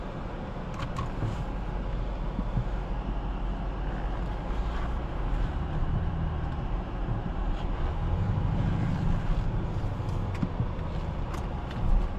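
A 2022 BMW X6 M50i drives on the road, heard as a steady rumble of engine and road noise inside the cabin, even and continuous with no voices.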